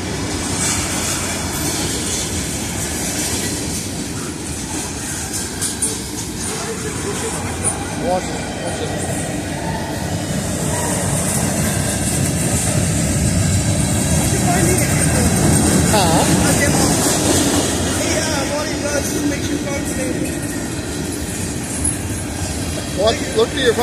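An Illinois Central freight train, number 1018, rolls through Effingham, Illinois, with a loud continuous rumble, rhythmic wheel clatter and occasional squeals that build as it passes close by, while people talk.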